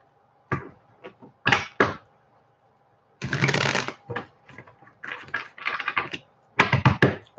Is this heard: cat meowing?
no